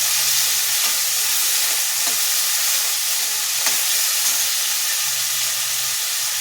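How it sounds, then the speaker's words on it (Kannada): Masala sizzling and hissing steadily in a hot pan for a Bombay aloo potato curry, with a few faint stirring scrapes, close and continuous with no talking. "ಚೆನ್ನಾಗಿ ಫ್ರೈ ಮಾಡ್ಕೊಳ್ಳಿ ಇದನ್ನು"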